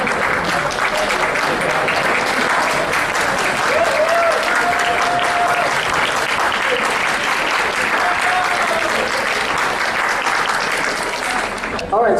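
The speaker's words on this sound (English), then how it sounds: "we'll take applause, sure" A conference hall audience at the 2011 National Cohousing Conference gives a featured speaker sustained, loud applause, a thick continuous roar of many clapping hands lasting about twelve seconds before fading at the end.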